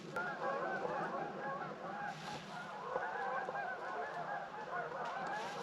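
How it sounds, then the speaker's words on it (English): A flock of geese honks continuously overhead in cold winter weather, many overlapping calls forming a steady, fairly loud chorus with no talking. "a bunch of geese are flying over"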